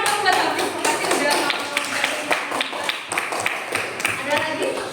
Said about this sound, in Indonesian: Tepuk tangan dong buat Hafiz.